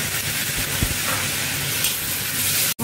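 Tomatoes go into a hot pan of golden fried onion and ginger garlic paste while cooking spiced okra, setting off a steady, close, loud sizzle that hisses evenly for a few seconds.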